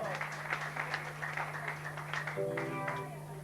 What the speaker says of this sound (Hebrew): מחיאות כפיים סוערות מגיע להם